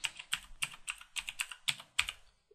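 A computer keyboard is typed on quickly, about ten crisp, close keystrokes in an even rhythm, entering text into a box, with no voices.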